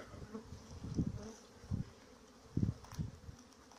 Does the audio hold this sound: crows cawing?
no